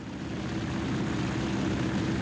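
A Broussard propeller airplane cruising at about 80 knots gives a steady, loud, droning engine and propeller roar with no letup.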